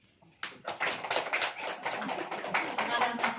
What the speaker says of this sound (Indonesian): Tepuk tangan buat Bu.